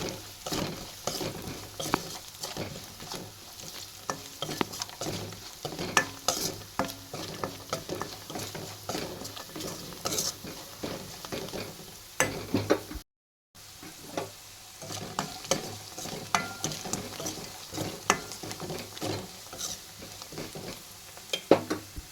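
Masala being stirred into onions frying in a pan at home, heard as a continuous sizzle under busy, irregular scraping and tapping of a spoon against the pan, close up, with one very brief dropout and no voices.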